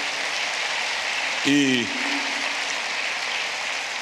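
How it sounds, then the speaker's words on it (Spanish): A church congregation applauding, a steady broad wash of clapping that fills the clip, with a brief spoken word rising over it partway through. "Denle un aplauso al Rey bendito"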